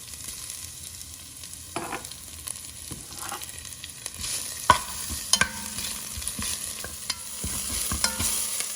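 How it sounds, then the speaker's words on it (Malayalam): Crushed ginger and garlic fry in oil with curry leaves in a pan, giving a steady soft sizzle with occasional stirring scrapes and clinks, growing a little louder toward the end, no voices. "ഇഞ്ചിയും വെളുത്തുള്ളി ചെറുതായിട്ടൊന്ന് മുരിഞ്ഞ് വരുന്നുണ്ട്"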